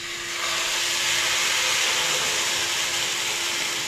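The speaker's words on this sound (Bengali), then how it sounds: "এবারে আমি দুধটাকে ঢেলে দিচ্ছি" Milk poured into a hot pan of frying papaya halua sets off a loud, broad, steamy hiss that rises quickly and holds steady for several seconds.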